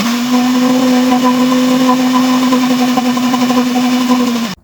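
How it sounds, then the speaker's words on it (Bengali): An electric blender whirs loudly through raw mango with water, holding a steady high motor drone from start to finish before cutting off abruptly at the very end, close up and with no voices. "এখন ব্লেন্ডারের মুখ ঢাকনা দিয়ে দিলাম, স্টার্ট দেওয়া হবে।"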